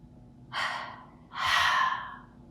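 Two deep, audible breaths drawn in through the nose and mouth during a yoga breathing exercise, close and fairly loud, the second longer and fuller than the first, with no talking.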